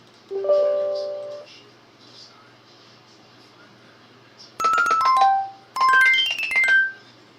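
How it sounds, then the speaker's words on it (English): An iPhone ringtone of bright, bell-like chimes plays in quick descending and rising figures after a faint opening tone, loud and close, with a low background hum. "it's got a cute little bell to it"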